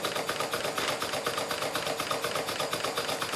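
A Sulzer marine steam engine runs steadily with fast, even mechanical clatter and rhythmic chuffing from its cylinders, continuous and fairly loud throughout.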